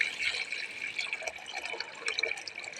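Free mountain water runs steadily from a pipe or hose at a rural home in the hills, a continuous close, bright splashing trickle with no talk.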